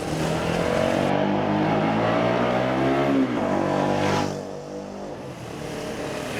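A Daelim Roadwin 125 R motorcycle. Its small engine climbs steadily in pitch as it accelerates, then drops off after a few seconds and settles into a quieter, lower drone.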